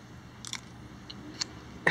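Chewing on soggy nachos at a campsite during a Michigan road trip: a few soft, damp bites and chews, then a louder crunch at the end, close up, with no talking.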